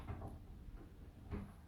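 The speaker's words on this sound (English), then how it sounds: "door latch, the door handle. It sounded just as I turned that door there." A door handle turns and its latch clicks on a private toilet door in an old hotel, giving two faint, dull knocks about a second apart against a quiet background.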